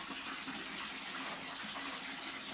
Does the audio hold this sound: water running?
yes